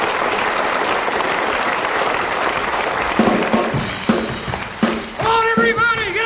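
An audience gives a band, introduced on a Frankie Howerd variety show, a large round of applause, dense and sustained throughout, with the opening of the band's music and singing breaking in toward the end.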